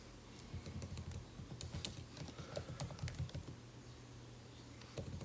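Quick, irregular tapping on a computer keyboard, quiet and close, with bursts of keystrokes running nearly the whole time and no other sound over it.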